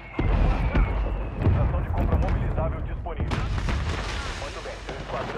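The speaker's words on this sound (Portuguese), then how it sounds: "Ataque. De morteiro." A mortar barrage in Call of Duty, with heavy booming impacts and rumbling explosions layered over busy game noise, loud and close, while a player talks over it.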